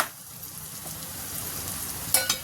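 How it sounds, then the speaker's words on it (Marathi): Masala with green chilies frying in oil for a rustic green chana sabzi, a steady close sizzle that rises toward the end with two brief stirring scrapes, no voices. "आपण हिरव्या मिरच्या टाकल्या, त्यामुळे छान व्यवस्थित भाजून घ्यायचे आपल्याला"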